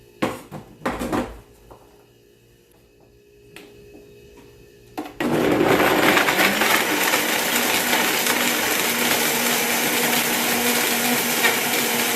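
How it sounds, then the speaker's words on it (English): A few sharp rattles and clunks of hard coconut pieces, then a blender roars to life and grinds them steadily and loudly until the end. "cut up small enough where the blender can crush it"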